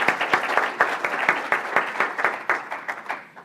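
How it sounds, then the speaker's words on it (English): An audience applauds a guest speaker at a women's lunch event, producing moderate, slightly uneven clapping with individual claps still distinguishable in a loose rhythm throughout. "Let's give her a round of applause."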